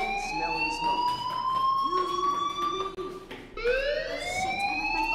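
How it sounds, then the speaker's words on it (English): A school fire alarm in the video game Life is Strange Remastered wails with rising, sustained electronic tones that repeat in long sweeps, fairly loud, with voices speaking faintly over it. "do you hear that fire alarm?"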